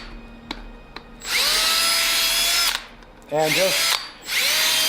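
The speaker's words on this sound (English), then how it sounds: "what you could do is actually just take your drill" A handheld power drill whirs in three long bursts as it carves a rough depression into a fresh piece of 2x4 wood, separated by brief pauses with a few words of speech.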